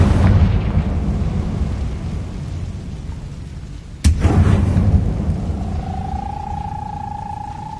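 A Confringo blasting spell from the video game Hogwarts Legacy explodes, opening on a rumbling boom that fades, followed by a second sharp crack and a renewed roar that tails off into a thin sustained tone.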